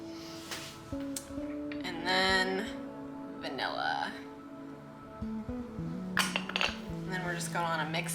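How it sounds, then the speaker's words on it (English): A utensil clinks and scrapes against a bowl while apples are tossed with cinnamon and cornstarch, with a voice heard at times between the knocks. "just gonna wanna mix this all together until the apples are all nice and coated."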